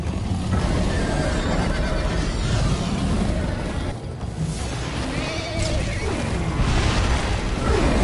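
A horse whinnies in a video game amid a dense, busy soundscape, with loud background noise filling the clip throughout.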